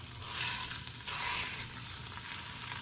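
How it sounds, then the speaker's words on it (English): Mild Italian sausage sizzles and crackles as it sautés in a pan for a soup, a steady close frying hiss with a few soft stirring scrapes. "I'm gonna go ahead and saute this for maybe"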